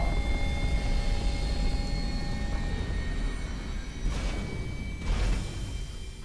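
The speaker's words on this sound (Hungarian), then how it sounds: "Jön a Millennium Falcon, halló, vigyázzatok!" Millennium Falcon flying over in the VR game Star Wars: Trials on Tatooine, a steady, distant engine roar with faint whining tones and two brief whooshing swells near the end, no speech.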